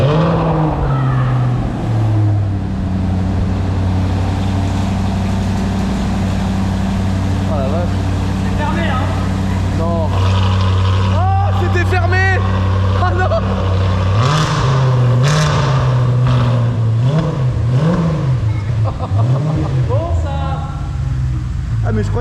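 Audi RS5 V8 with a full EVOX exhaust line, idling with a deep steady rumble before rising in repeated revs and blips, loud and close, as people talk over it.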